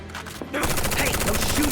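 Rapid gunfire in Final Fantasy VII Remake bursts in after a quieter moment and continues as a loud, dense, steady rattle of automatic shots.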